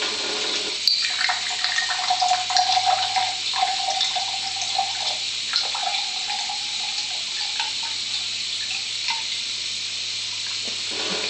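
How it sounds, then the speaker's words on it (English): Level 2 water runs from a water ionizer in a steady, close splashing stream, like a tap filling a sink, with a low hum beneath and a few brief bumps near the start. "20 seconds to have actual level 2 water coming through"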